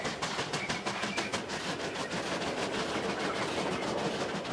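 Two West Australian W-class steam locomotives double heading up a steep 1 in 30 grade, a loud continuous rhythmic chuffing and rumbling of engines working hard, with steady mechanical clatter and no voices.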